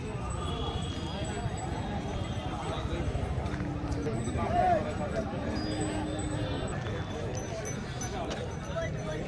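Hoof clatter and shuffling of horses at a busy horse market in Tiruvannamalai, steady and moderately near, with people talking throughout over the clops.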